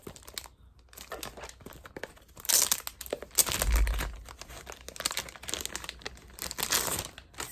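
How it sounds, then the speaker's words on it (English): Plastic packaging around an MCM card holder crinkles and rustles close up in irregular bursts of handling, quiet overall with sharper crackles now and then. "the MCM card holder comes in this plastic"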